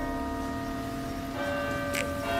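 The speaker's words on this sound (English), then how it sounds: "This should be just bells for the quarter of the hour." Cathedral bells at York Minster strike the quarter hour, a single ringing bell tone with long sustained hum, faint and distant in an outdoor park.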